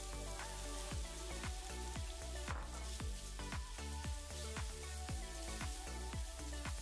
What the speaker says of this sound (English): Continue to stir fry everything for about a minute-ish